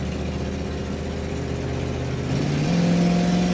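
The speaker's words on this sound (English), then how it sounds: "And there's the kickdown on that automatic transmission." A 1962 Ford Galaxie 500 XL drives with a steady engine drone until its automatic transmission kicks down. The engine then revs up louder and holds a higher pitch, close by and with no talking.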